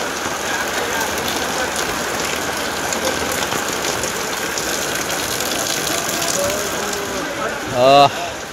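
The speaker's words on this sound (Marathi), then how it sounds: "पाऊस पाऊस पाऊस." Steady rain pours over a busy market street in Devgad, a constant hiss broken near the end by a brief loud burst that may be a voice.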